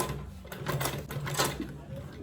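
A sewing machine turned by hand stitches a makeup bag at a half-inch seam, giving a soft, irregular mechanical whir and clicking with a low hum underneath.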